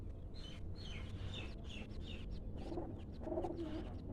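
Pet pigeons kept in pairs for sale make a run of soft, repeated coos and calls over a low steady background hum, close and fairly faint, with no speech.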